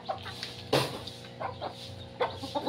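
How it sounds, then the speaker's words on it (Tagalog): Native chickens on a farm cluck and chatter close by in a steady, busy flock. "mga native chicken"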